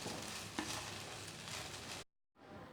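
Sabudana khichdi with fresh coriander being stirred in a non-stick pan, a steady close scraping and soft sizzling that runs continuously, then cuts off briefly before resuming.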